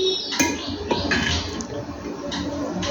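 Salted gooseberries being stirred into a pot of pickle: wet squelching and scraping with soft clinks of a spoon against the vessel, close and moderately loud, a few distinct strokes over a constant murky background.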